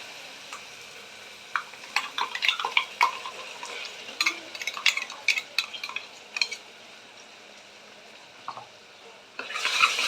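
Ground masala sautéing in a pan for mutton white gravy, with a spoon clicking and scraping in irregular bursts over a soft steady sizzle.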